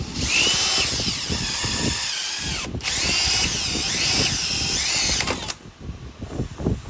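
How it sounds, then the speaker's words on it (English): A power drill whines loudly and steadily as it bores into metal on a 1970 Monte Carlo, with a brief pause midway and grinding changes in pitch before it cuts off. "I'm going to take a drill and a drill bit and drill into this"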